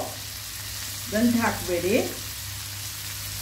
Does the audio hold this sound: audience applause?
no